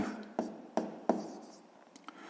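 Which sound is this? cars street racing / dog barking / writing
writing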